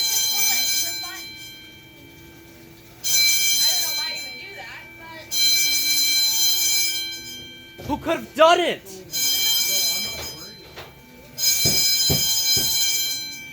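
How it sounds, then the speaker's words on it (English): A fire alarm bell rings in loud repeated bursts with short pauses at a flea market, a false alarm. People talk over and between the ringing. "We got a false fire alarm."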